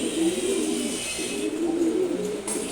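Pigeons coo in low, rolling phrases that repeat close by, steady against a faint background hiss.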